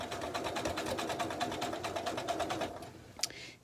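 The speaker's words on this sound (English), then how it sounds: "I'm going to be really careful to sew just in the right spot there so that I have my points right" A sewing machine runs steadily while stitching the pieced star points of a quilted Liberty table runner, a rapid even whir that is close and continuous and stops near the end, followed by a brief click.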